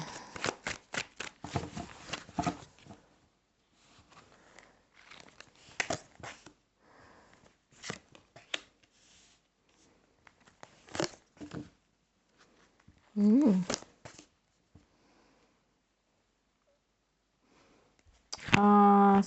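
Soft, close tarot card shuffling in scattered bursts of riffling and tapping, separated by quiet pauses, with a brief hum and sniff.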